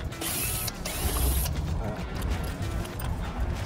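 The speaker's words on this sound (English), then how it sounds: "I'll hold the door while I get it taken off." The hinges creak and the metal clatters as the entry door of a 37-year-old RV, damaged by wind, is taken off. The noise is close and continuous, with a steady mechanical grind and no one speaking.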